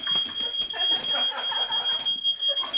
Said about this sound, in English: the fucking fire alarm's going off, man